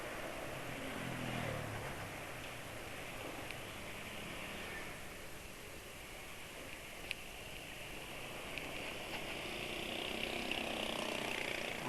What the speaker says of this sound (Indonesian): suara motor NMAX barusan itu kasar juga ya.